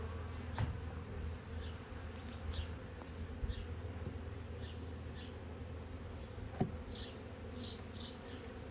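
Honey bees hum steadily at an open hive during an inspection, a soft continuous buzz with occasional individual bees passing close, fairly quiet overall.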